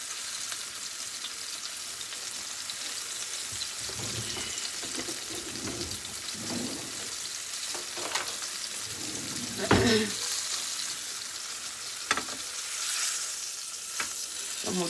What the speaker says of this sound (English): I'm going to try to sear all these sides of this meat.